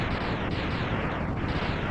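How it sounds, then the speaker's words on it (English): Explosions from defeated enemies in the video game Mega Man X, a dense continuous roar of blasts that stays loud and steady for two seconds with no talk over it. "Remember, we don't get hurt by the explosions."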